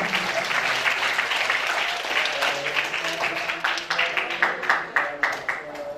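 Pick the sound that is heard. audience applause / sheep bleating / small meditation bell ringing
audience applause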